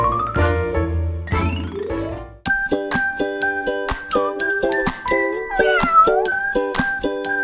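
A cat gives two rising meows up close, followed by several seconds of quick, bright tinkling and chiming notes, with no voices.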